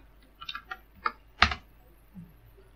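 Typing on a computer keyboard, a quick irregular run of about six or seven close, crisp key clicks, one sharper louder tap in the middle, with no talking.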